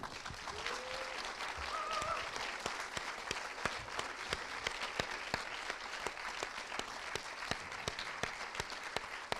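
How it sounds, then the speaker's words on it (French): Audience applause fills a cinema masterclass hall, sustained even clapping from a sizeable crowd lasting throughout without talk. "Merci d'applaudir mademoiselle Béatrice Dalle."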